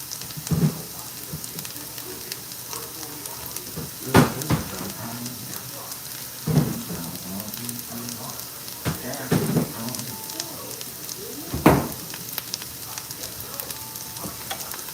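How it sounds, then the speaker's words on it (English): Hash browns sizzle in a pan with a steady, crackling fry, punctuated by a few louder scrapes or stirs, while someone talks now and then in the background. "We're getting these hash browns browned up."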